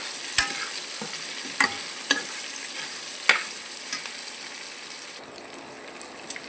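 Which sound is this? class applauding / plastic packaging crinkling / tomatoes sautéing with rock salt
tomatoes sautéing with rock salt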